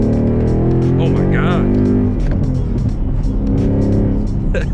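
A Ford Mustang GT with a stock MT82 manual gearbox accelerates hard, its engine rumbling loudly and rising in pitch through the gears, heard from inside the cabin with a driver talking over it.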